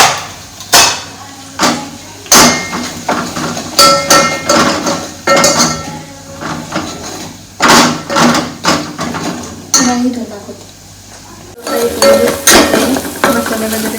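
Spice masala of red chilli powder, coriander powder and homemade masala fries in oil with onion and tomato, while a spoon stirs and clanks against the pan in a steady run of close knocks over a low sizzle.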